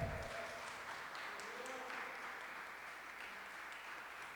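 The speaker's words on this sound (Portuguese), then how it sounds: "Você pode aplaudir o Senhor?" A church congregation at a celebration service applauds together, a soft, even wash of many clapping hands heard at a distance, holding steady for a few seconds without any speech.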